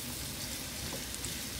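Garlic sizzles steadily in a pot of crawfish bisque as it is stirred, a continuous close frying hiss with no voices.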